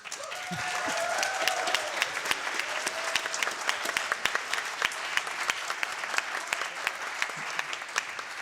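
An audience at a speedrun marathon event claps and cheers continuously for several seconds, a dense, loud wash of many hands with a few voices mixed in.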